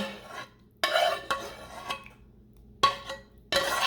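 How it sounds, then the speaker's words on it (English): A spoon scrapes and clanks around a pot, stirring a creamy chicken sauce for a one-pot meal with vegetables and meat, in a few short bursts of stirring separated by quiet gaps. "Give this a nice stir."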